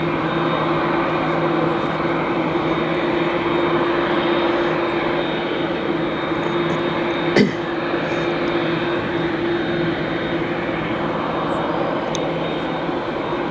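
An American Airlines Boeing 787-9 jet airliner at Chicago O'Hare airport gives a steady, broad engine roar with a droning tone, holding level and loud throughout with a brief sharp click midway.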